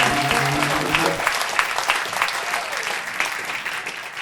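A hall audience applauds at a National Broadcasters Hall of Fame induction, a strong, sustained wave of clapping that follows the tail of a held musical note.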